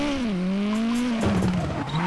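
A Hyundai i20 rally car in WRC9 slides through a handbrake entry, its engine note dipping and rising as the tires scrub and skid, close and continuous.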